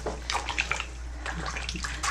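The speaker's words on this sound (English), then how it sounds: "Run it through lukewarm water and detergent twice" Lukewarm tap water runs and splashes while a waist trainer is rinsed with detergent, a continuous close gush with bursts of sloshing.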